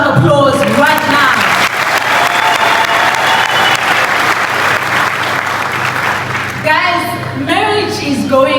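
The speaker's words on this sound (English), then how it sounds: "Can you please give yourselves a round of applause right now?" Loud audience applause at a marriage seminar in Polokwane, dense clapping and some cheering from a crowd, with a voice talking over the start and more voices rising near the end.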